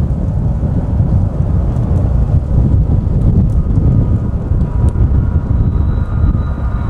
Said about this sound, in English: Sounds like a train's coming.